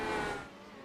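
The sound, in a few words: IndyCar racing at Indianapolis in iRacing video game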